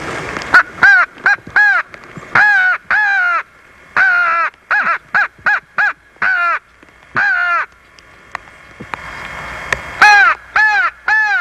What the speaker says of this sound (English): So now those are some fish crows again.